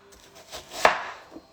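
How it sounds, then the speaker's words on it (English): Onions and leeks cut with a knife on a board for bolanee: a few light taps, then one sharper chop, then a faint final tap, close and quiet. "my chopping technique isn't very good"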